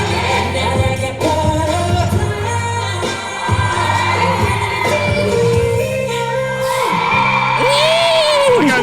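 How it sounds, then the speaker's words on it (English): A concert crowd cheers, whoops and yells for a performer on a TV music show stage, loud and sustained throughout under music, with some voices rising above the roar. "The crowd is turned the fuck up."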